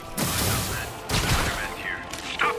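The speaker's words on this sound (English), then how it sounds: "Unknown assailants are firing on police from elevated positions." Bursts of gunfire aimed at police officers in a New York street battle from Marvel's Spider-Man on PS4, loud broadband volleys at the start and again midway, with sirens or tonal game effects and voices mixed in.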